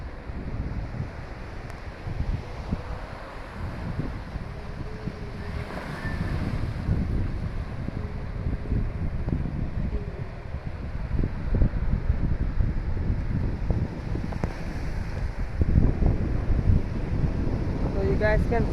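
Heavy wind buffeting at the seawall in Guyana under dark clouds, a loud continuous roar and rumble of gusts against the microphone, swelling stronger toward the end, with surf in the background.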